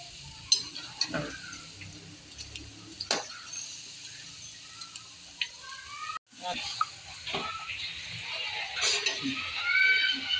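Potato pakoras frying in hot oil in a kadhai, with a soft sizzle under clinks and scrapes of a utensil turning them, and someone talking at moments.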